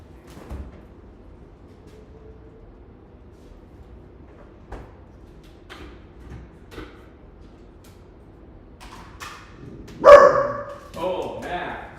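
A pet dog barks indoors, with a loud burst of barking near the end after a quiet stretch of faint background sounds.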